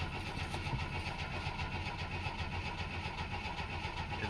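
A 1964 Chevy II engine cranks over steadily on the starter, a continuous rapid churning rhythm at moderate level with no ignition, heard close and without talk.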